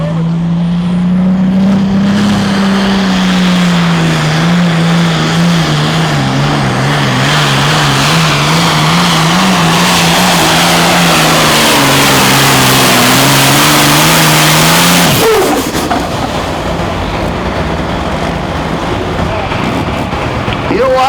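A Super Farm pulling tractor revs hard during a pull at a Pro Pulling League event in Hillsboro, Wisconsin, a loud sustained roar whose pitch wavers and climbs before cutting off abruptly near the end, leaving loud crowd and engine noise.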